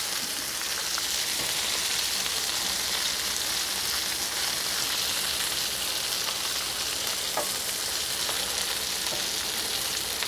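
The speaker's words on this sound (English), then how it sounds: "Stir them up, mix them good." Shishito peppers sizzle steadily in a hot pan while being stirred, a dense, even crackle of frying oil running the whole way with faint scrapes and no talking.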